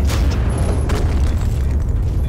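A frag grenade explodes in Gears of War, a loud deep boom with rumbling low-end roll that fills the whole moment, no voices over it.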